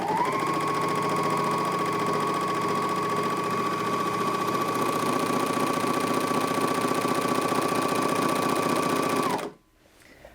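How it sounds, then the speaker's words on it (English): A Janome My Lock 454D overlocker stitches cotton jersey fabric in one steady, loud whirring run lasting about nine seconds, then stops abruptly into near silence. "let's go ahead now and sew some of this cotton jersey fabric"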